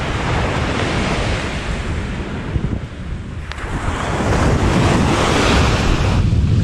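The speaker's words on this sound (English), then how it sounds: "so I'm down here at Carrickalinga Beach" Steady roar of surf breaking at Carrickalinga Beach, mixed with wind buffeting the microphone, continuous and loud with a slight swell toward the end.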